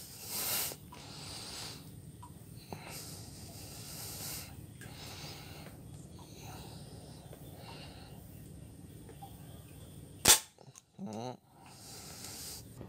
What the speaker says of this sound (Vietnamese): nó mini thôi bắn lũng lon bia luôn nè các bạn